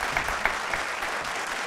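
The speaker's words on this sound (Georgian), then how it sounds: "აპლოდისმენტები 230 ლარით გავაცილეთ." Studio audience applause on a Georgian television quiz show fills the room as a steady, moderately loud patter of clapping with no voices over it.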